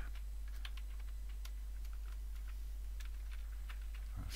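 Fingers type on a computer keyboard with quiet, close, irregular clicks and taps over a faint steady background hum, with no voices.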